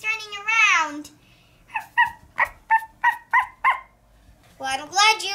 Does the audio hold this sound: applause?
no